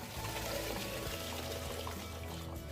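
Boiled water draining off mangoes during pickle preparation, a continuous pouring, splashing rush of liquid, fairly soft and steady throughout, with no voices.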